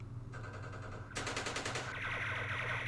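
Rapid automatic gunfire from opportunity fire in the Vietnam War strategy game Campaign Series Vietnam, a burst of fast shots followed by a louder, denser volley and lingering rattling fire, with no speech.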